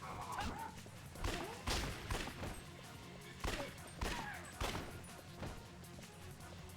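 Gunshots fired in the zombie-shooting video game Yakuza: Dead Souls, a series of sharp cracks spread across the stretch over a constant low background hum, with no talk.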